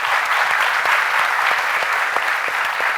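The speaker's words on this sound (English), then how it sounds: "You should give them a round of applause" An audience at a leadership summit on startups and venture capital claps steadily, a dense even wash of applause throughout with no voices over it.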